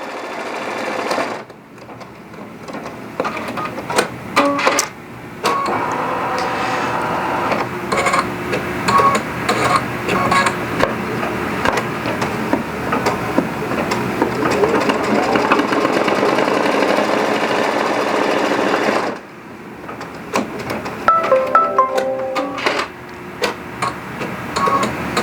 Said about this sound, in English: Okay, our first stitch here is going to be our placement stitch for our ribbon.